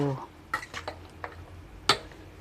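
Thai rice noodle salad with boiled egg is tossed in a bowl, giving a few sharp clinks and scrapes of utensils against the dish, spaced irregularly, close by after a brief voice at the start.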